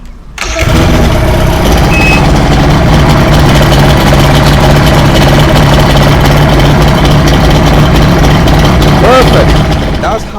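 A boat engine cranks and catches, then settles into a loud, steady idle right up close, running continuously with a low rumbling drone.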